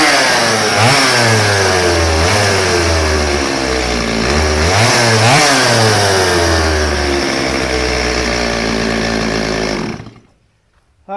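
A Stihl chainsaw engine, freshly carburetor-tuned with the air cleaner refitted, runs loud and close for about ten seconds with repeated revving surges and a steady high-pitched idle between them, then cuts off abruptly into near silence.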